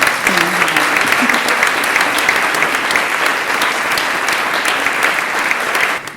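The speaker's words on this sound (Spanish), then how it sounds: "Muy bien, podéis aplaudirse." Steady audience applause at a cultural lecture, many hands clapping in a dense, sustained wash that holds evenly for about six seconds before easing off at the end.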